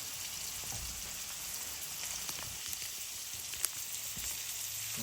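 Onions frying slowly in a pan beside beef liver, giving a soft, continuous close sizzle like light rain, with faint scrapes of stirring and one small sharp tick.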